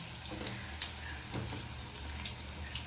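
Urad dal vada frying in hot oil, a dense continuous sizzle and bubbling with small pops, steady and close throughout, no talking.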